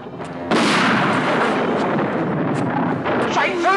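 Gunfire in a comedy-horror film scene: a sudden loud blast at about half a second becomes a sustained roaring barrage that continues throughout at high level, with voices briefly audible near the end.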